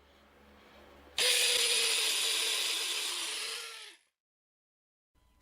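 A power drill boring a hole through a metal Fender System 1 tremolo part, a steady high whine starting abruptly and running about three seconds before cutting off, followed by silence.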